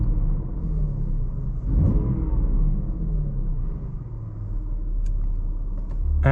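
A BMW M3 G80 with a manual transmission, in sport mode with M Sound Control off, holds a steady, loud low engine rumble, with one brief swelling rev near the start.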